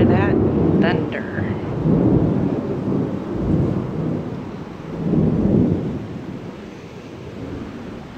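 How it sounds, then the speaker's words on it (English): Deep thunder rolls in several loud, rumbling swells outside near a pool on Anna Maria Island during a storm, with steady rain hiss underneath and a brief rising whistle-like sound near the start. "Hear that thunder?"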